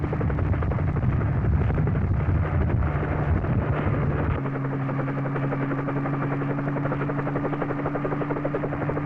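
A helicopter at a space launch area at Cape Canaveral runs loud and close, its rotor chopping in a steady rapid pulse over a constant engine drone, with the pitch shifting partway through.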